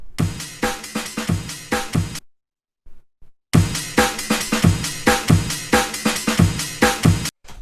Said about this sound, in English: So you can hear it's kind of like an amen break